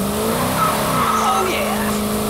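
Plum Crazy Dodge Challenger launching hard with a drawn-out, wavering tire squeal over a loud, steady engine roar, heard close from inside the car.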